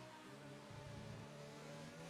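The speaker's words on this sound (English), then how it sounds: "A lovely engine from that Sauber." Sauber Formula 1 car engine revving in the F1 2019 racing game at Singapore, a steady high-pitched whine with rising and shifting tones through the whole stretch, fairly quiet and with no talk over it.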